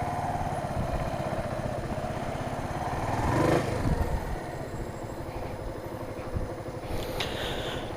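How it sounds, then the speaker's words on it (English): A motorcycle engine runs nearby with a steady, throbbing idle that briefly rises in a quick rev before settling back, with no voices over it. "because this bike runs perfectly"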